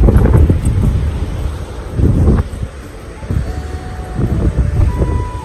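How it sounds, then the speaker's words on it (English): Gusty wind at a beach buffets the microphone in loud, uneven rumbling waves that rise and ease off again. "When that wind stops, it's lovely, but when it blows, oh, it's chilly."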